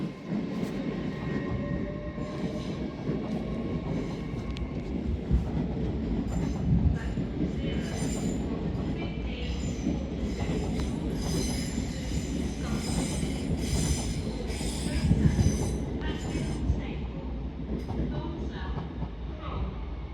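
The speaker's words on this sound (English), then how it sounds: "departing now is 8:01:213, I think. 8:01:203, working a LNER Azuma service from York to London King's Cross." An LNER Azuma unit 801203 pulls out of Doncaster on a York to London King's Cross service, with rumbling wheels, squealing flanges and rising motor hum, moderately near, and brief voices in the background.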